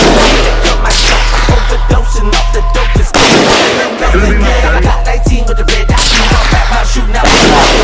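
Repeated pistol shots at an outdoor shooting range, sharp loud bangs firing in irregular succession with a brief lull midway, over steady low rumble of wind or background noise.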